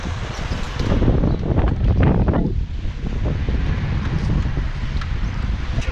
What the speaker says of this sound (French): C'est un peu la tempête.